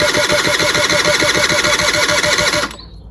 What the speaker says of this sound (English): So I'll just show you what it's doing. It's trying to fire a little bit,